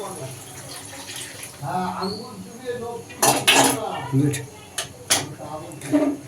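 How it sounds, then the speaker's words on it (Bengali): Hot water is poured into a pot of mutton curry with potatoes, with metal pot clatter and splashy bursts while someone talks. "তো দেখো এখানে গরম জল করেছিলাম তো গরম জলটা এর মধ্যে দিয়ে দিলাম"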